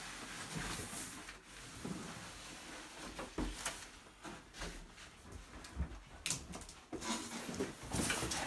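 A dog sniffs around a freshly unboxed package and whimpers, up close, among ongoing rustling of packaging.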